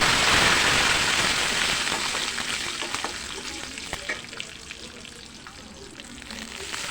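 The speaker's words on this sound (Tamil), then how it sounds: "மிளகாயும் நல்லா வறுத்துட்டு" Steady hiss and crackle of dried chillies frying in hot oil, loud at first and easing slightly, with soft stirring clinks throughout.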